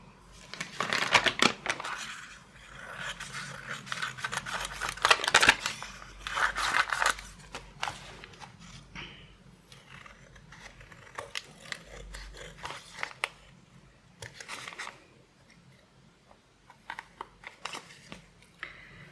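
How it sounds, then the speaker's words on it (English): Scissors snip through paper junk journal tags in bursts of quick, crisp cuts close by, separated by pauses and light paper rustling. "here are my scissors. And I think I'm going to start by quickly just separating them"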